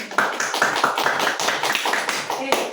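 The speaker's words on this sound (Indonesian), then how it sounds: "Tepuk tangan untuk hari ini." Group clapping after a prayer, a burst of claps at moderate loudness with voices talking over it.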